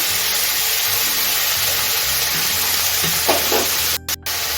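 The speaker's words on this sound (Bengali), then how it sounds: "এইভাবে কেটে রাখা কাঁচা লঙ্কা দিয়ে দিচ্ছি" Chopped green chillies go into a frying pan, a loud steady sizzle with faint stirring clatter, briefly cutting out near the end.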